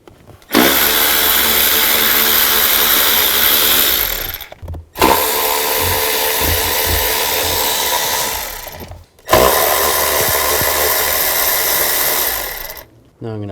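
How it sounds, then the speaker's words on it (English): Power tool whirring in three long bursts of roughly four seconds each, with brief pauses between, loud and close, while bolts are removed from a 2000-2006 Chevy Tahoe fuel rail with an 8mm socket. "Now I'm going to take these bolts off of the fuel rail."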